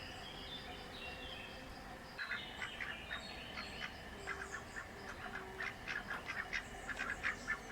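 Ducks being fed quack in repeated, overlapping calls that grow busier and louder toward the end, heard up close over a steady outdoor background hiss, with no talking.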